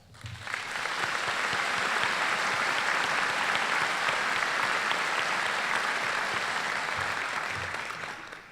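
An audience applauding at a medical college commencement ceremony, a sustained swell of dense clapping from a large crowd that rises quickly, holds steady, then tapers off.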